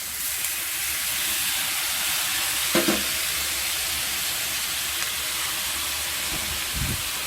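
Chicken wings sizzling steadily in a hot pan, a continuous close frying hiss with a brief louder crackle partway through and no talking.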